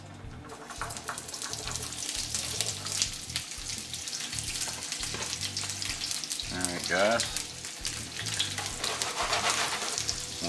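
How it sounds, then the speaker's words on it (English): Onions sizzling in hot olive oil in a pan, a steady crackling fizz running throughout, with a brief clatter midway and someone speaking briefly at the start. "Get ready for the sizzle"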